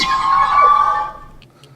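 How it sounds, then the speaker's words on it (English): Synthesized plasma death sound effect from a Metal Gear Solid pack for the LittleBigPlanet video game: a bright, loud, buzzing electronic tone that sustains for about a second, then decays and fades, with faint blips at the tail. "My favourite sound that I've created so far, which is the plasma death in the Metal Gear Solid pack, which sounds like this"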